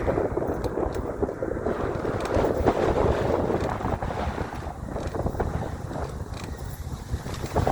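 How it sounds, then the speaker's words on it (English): Strong outdoor wind blows steadily and roars across the microphone in continuous buffeting gusts, with no voices. "huge wind we're feeling right now"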